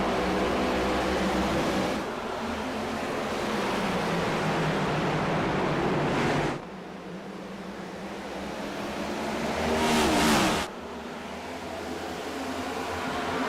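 Racing cars in a racing video game surge forward together at a green-flag restart of the Seal Bass 200 at Iowa, a dense, loud wall of engine roar that swells and drops in sections, with no talk over it.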